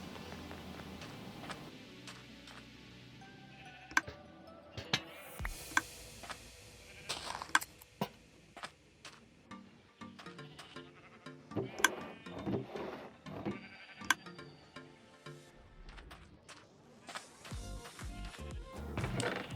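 Scattered short bleats of Minecraft sheep among clicks and soft thuds, repeated irregularly throughout at moderate loudness, with no talking.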